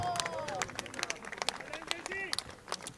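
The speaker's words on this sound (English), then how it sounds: "let's invite the captain, Kaushik Chatterjee. Big round of applause." Applause at a cricket prize distribution as the captain is called up: a crowd claps in scattered, uneven bursts, with a murmur of voices underneath.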